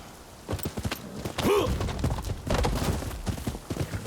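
Horse hooves in the video game Rise of the Ronin clop in a quick run of thuds under game sounds, with a brief whinny-like tone and some talk over it.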